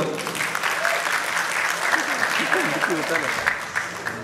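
A large audience at a Malayalam film audio launch event breaks into sustained applause, dense and continuous clapping with a host's voice talking over it throughout.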